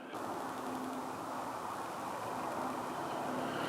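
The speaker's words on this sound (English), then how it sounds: "I can hear some traffic. You might be able to hear that." Steady low hiss of distant road traffic heard from a quiet wooded campsite, a faint continuous wash with a soft hum, no voices.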